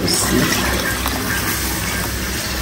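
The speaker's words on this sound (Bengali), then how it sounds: "এখন এটাতে জল দিয়ে দিব।" Water pours steadily into fried lentils (dal) in a pan, a loud, close, continuous gushing rush with no break for a few seconds.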